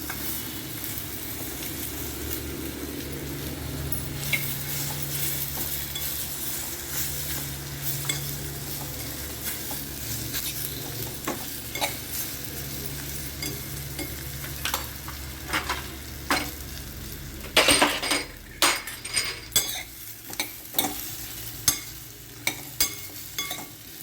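Steady sizzling of asafoetida, red chilli powder, coriander-cumin and turmeric frying in hot oil, with stirring and a few sharp crackles and pops building toward the end. No voices.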